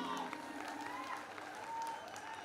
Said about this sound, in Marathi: गायकांसाठी खास टाळ्या.